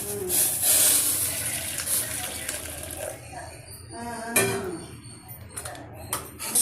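Water pours into a pot of cut chicken pieces in a home kitchen, a steady splashing rush for about three seconds that gives way to quieter clinks and trickles.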